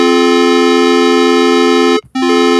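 A sustained electronic microtonal chord of several steady tones, slightly unusual in tuning, held loud and even with a brief cutoff near the end before resuming.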